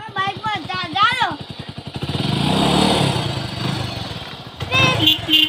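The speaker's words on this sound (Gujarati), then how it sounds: "બાઈક પર ચાલો" A motorcycle ridden with passengers aboard, its engine droning and rising steadily up close while people talk over it at the start and end.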